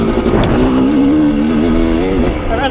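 A motorcycle engine lugs at low revs in third gear, a steady deep drone whose pitch wavers slightly while riding, loud and close throughout with wind noise.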